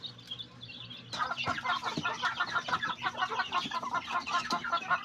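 Backyard chickens and chicks cluck and peep close by, a busy overlapping stream of short calls that grows louder after the first second and continues steadily without speech.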